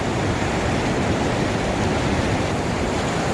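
A river waterfall rushes in a dense, loud, unbroken roar of fast water close by, steady throughout with no voices.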